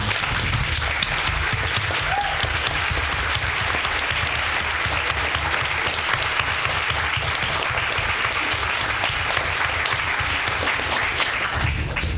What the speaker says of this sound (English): First of all, a round of applause for our totally amazing panel.